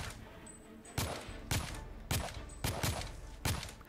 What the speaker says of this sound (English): Can I shoot this light bulb out?